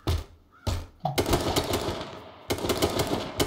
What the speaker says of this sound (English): I'm hearing shots